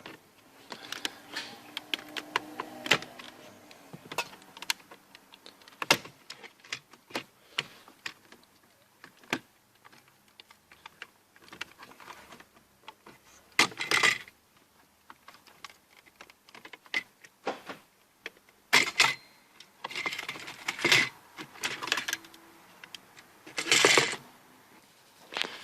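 Plastic dashboard trim being pried and pulled out of a Holden Cruze: scattered close clicks, snaps and rubbing scrapes in irregular clusters, with quiet gaps between bursts and no talking.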